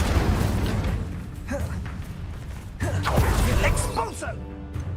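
Incendio fire spells cast in Hogwarts Legacy combat, bursting whooshes and crackling pops mixed with clanking, with a voice talking over the spellcasting.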